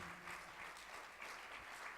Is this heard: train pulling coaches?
no